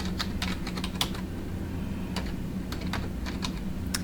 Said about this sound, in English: I'm going to type in my search terms